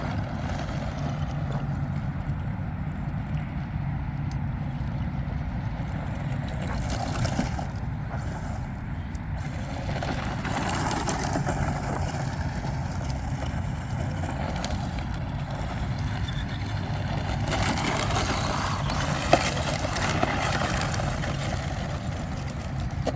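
Traxxas Mini Rally Ford RS200 RC car driving outdoors, its steady electric motor whine and wheel noise running continuously at moderate loudness, with broadband rushing bursts as it tears across the ground.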